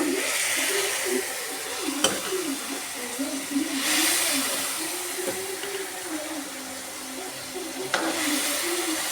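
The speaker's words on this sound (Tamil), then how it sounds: "இந்த மாதிரி நல்லா வதக்கி விட்டுக்கணும்" Food being sautéed with salt in a pan in a home kitchen, giving a steady close sizzle and hiss with occasional stirring clinks, while a voice talks faintly in the background.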